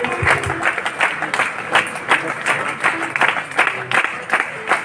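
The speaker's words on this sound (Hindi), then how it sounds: "जोरदार तालियां।" Crowd applause at a parish youth seminar as nuns are called forward to be honored, moderately loud clapping with uneven bursts under some faint voices.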